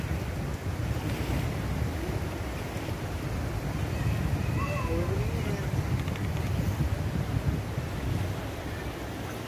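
Waves and wind at Huta Bage beach on Lake Toba, a steady broadband wash of surf and gusting wind across the microphone, loud and continuous throughout, with faint high chirps briefly rising over it midway.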